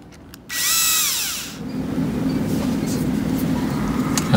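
A power drill runs up briefly to drive the screws on an RV water pump, its motor whine rising and then falling over about a second, followed by steady background noise.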